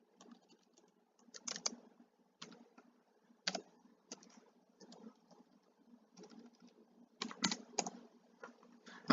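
Bursts of computer keyboard typing, clustered keystrokes with pauses between, close and fairly quiet, entering a Python int function with no talking.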